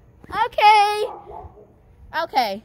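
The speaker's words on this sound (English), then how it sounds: "And please pardon the dogs over there." A dog barks nearby, sharp yelping cries in a few short bursts, with a brief spoken word from a person mixed in.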